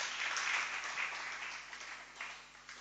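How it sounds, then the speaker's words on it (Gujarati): Crowd at a devotional gathering claps in a steady round of applause, moderately distant and fading slightly toward the end. "એમને એકવાર જોરદાર તાળીઓથી આપણે વધાવશું"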